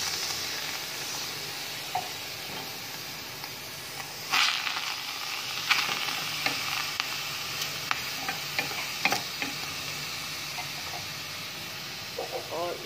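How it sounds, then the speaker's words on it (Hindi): Chopped tomatoes cook over low heat in a pan for chicken karahi, giving a soft steady sizzle with scattered spoon scrapes and clinks, moderately close, with faint talk in the background. "इसमें मैं डाल रही हूँ ये जो टमाटर मैंने काट के 8 से 9 10 टमाटर काट के रखे थे"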